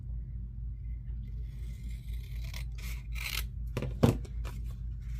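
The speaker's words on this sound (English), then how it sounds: "Okay, I'm going to just trim off just a little bit." Scissors trim a small strip off gift wrap paper for a junk journal, heard as a few close papery snips and rustles over a steady low rumble.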